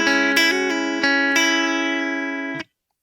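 Electric guitar riff, notes and chord tones ringing out together over about two and a half seconds with a few picked attacks, then stopping abruptly into silence.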